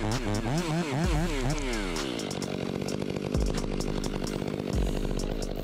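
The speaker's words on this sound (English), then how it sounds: "The West Coast chainsaw completed the job in just a few minutes." A loud chainsaw roars and revs, its pitch rising and falling as it bites into wood, with the engine droning continuously close by.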